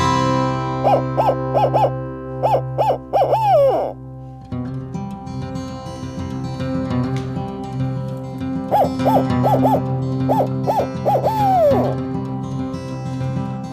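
A turkey hunter in Michigan's Upper Peninsula voices owl hoots, imitating an owl call to make turkeys answer. Two close, loud series of rhythmic hooting bursts are separated by a pause, over a steady low background drone.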